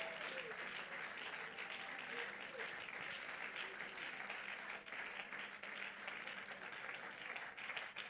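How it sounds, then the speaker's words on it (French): A church congregation breaks into sustained applause, a dense, steady wash of clapping from a large crowd that carries on for about eight seconds with faint voices underneath. "Quelqu'un peut-il encore acclamer le Seigneur avec moi,"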